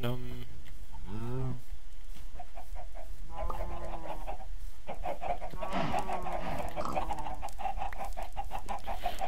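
Chickens clucking in a Minecraft-style video game, a string of clucks and squawks repeating in bursts over a steady background bed, fairly close and clear.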